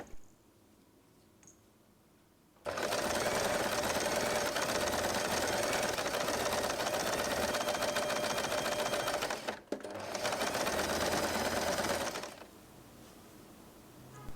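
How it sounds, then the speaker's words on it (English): Electric sewing machine stitching along fabric folded twice, a fast, even mechanical whir that starts abruptly, stops briefly, resumes, then cuts off, close and loud over a quiet room. "Sew all along the fabric by folding it twice."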